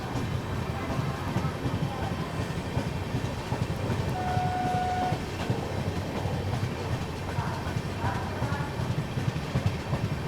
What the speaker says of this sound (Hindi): यहाँ पर गाजियाबाद स्किप करते हुए अपनी महाबोधि एक्सप्रेस।